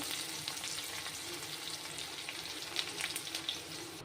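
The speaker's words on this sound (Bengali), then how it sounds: "ওইভাবে বাকি ভিন্ডিগুলো ভেজে নেব" Okra (bhindi) pieces fry in hot oil in a pan, giving a soft, continuous crackling sizzle with a few sharper pops, faint and close, with no voices.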